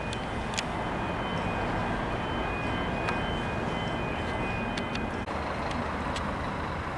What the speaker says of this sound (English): It's activated now because the train's about to pass through.